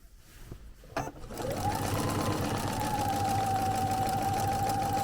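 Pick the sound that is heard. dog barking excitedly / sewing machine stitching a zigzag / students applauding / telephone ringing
sewing machine stitching a zigzag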